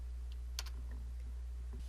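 Brief burst of keyboard typing, a few quick clicks near the start and a faint tap later, heard close over steady low hum while working in Illustrator 2020.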